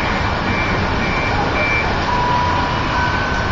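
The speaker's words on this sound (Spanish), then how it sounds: "Alarma de los carros" Car alarms sound through a nighttime storm in Miami, thin steady tones drifting far off beneath a constant wash of rain and wind noise.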